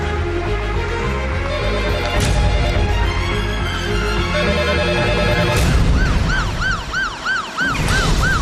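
Ambulance siren wailing in a rising and falling pattern over a drama score, growing louder toward the end as the emergency vehicle draws near, with no talk.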